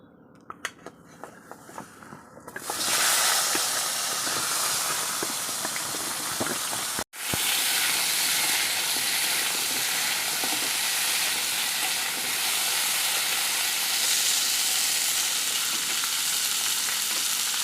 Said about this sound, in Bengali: এই পটলগুলিকে এখন আমি ভেজে নেব